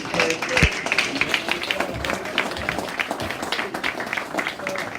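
An audience claps in tribute at a talk event, a moderately loud patter of many hands that rises and falls, with some crowd voices and shouts mixed in.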